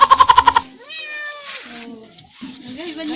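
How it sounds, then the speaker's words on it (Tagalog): Close by, a cat meows several times in drawn-out, wavering calls on a beachside outing, following a quick burst of rapid pulsing sound at the start. "naghay man ang pusa"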